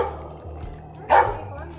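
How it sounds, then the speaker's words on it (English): Guard dogs on a street in Flores, Guatemala let out a single loud bark close by, standing out over low background noise and faint voices. "at least they're doing a good job as guard dogs"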